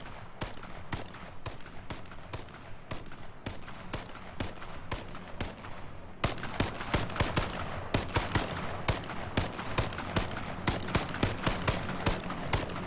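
Rapid video-game gunfire fires off spare ammunition in dense, evenly spaced bursts of sharp shots, growing louder and heavier partway through, with no talk.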